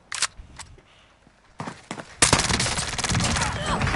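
Gunfire in the video game Call of Duty Warzone: a few isolated single shots, then a loud, sustained burst of rapid automatic fire that continues to the end.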